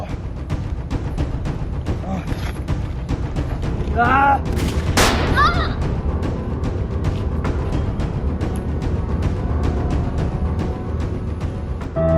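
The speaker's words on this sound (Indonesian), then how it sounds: "Datuk Maringgi yang juga roboh terkena tembakan dari Letnan Mas" Rapid bursts of gunfire crackle over a dense, continuous background of battle noise, with a brief shout or cry mixed in partway through.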